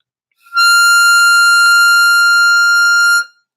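Harmonica draw note pulled in through hole 9, a single steady high tone held for about three seconds with a bright, buzzy overtone-rich edge, played alone at close range.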